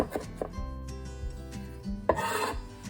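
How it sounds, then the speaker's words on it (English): A knife chops fresh cilantro on a board, a few close, dull cuts and scraping rubs with a louder burst near the end, no talking. "Quickly chop the herbs, beginning with 1 teaspoon of cilantro."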